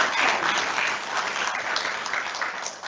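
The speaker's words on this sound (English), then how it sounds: "Put your hands together." Audience clapping at a school annual day function, a steady dense wash of many hands heard close and sustained, easing slightly toward the end with no voices over it.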